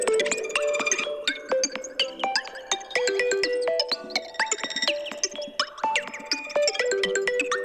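Éclat, the new iOS 17 phone ringtone, plays alone as a bright, busy sequence of chiming, bell-like notes in quick rhythmic bursts, steady and fairly loud throughout with no voices.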